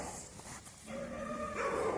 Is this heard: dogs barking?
yes